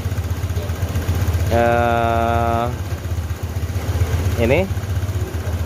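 A Honda Vario 150 scooter engine after a throttle body service, running close by with a rapid throbbing idle that rises briefly. A steady tone sounds over it for about a second, and someone says a word near the end.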